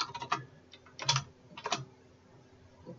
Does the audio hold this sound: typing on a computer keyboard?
yes